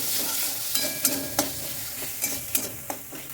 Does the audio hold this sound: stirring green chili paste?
yes